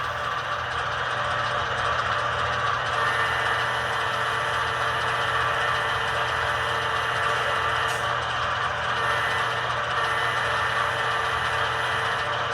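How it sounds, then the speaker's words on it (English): A Scaletrains C44-9W model locomotive sound decoder plays its diesel idle sequence: a steady, continuous low engine rumble with a constant hum, holding level throughout with no voices. "I was listening to the idle sequence on them."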